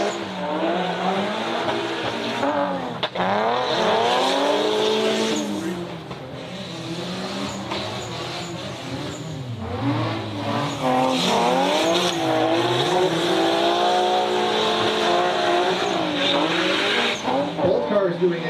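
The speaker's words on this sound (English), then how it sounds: "Both cars doing exactly what they need to stay in drift." Two drift cars slide in tandem at an SRD drifting event on the plains, engines wailing and rising and falling through the run with tire squeal, loud and sustained, while a commentator talks throughout.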